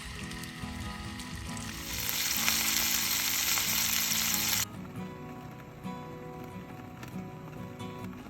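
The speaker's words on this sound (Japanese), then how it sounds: "オリーブオイルで先ほどのホッケを皮目から焼いていきます。" Hokke fish laid skin-side down in hot olive oil, a soft frying sizzle that swells sharply for a few seconds, then drops back to a quieter crackle, faint and close with no talk.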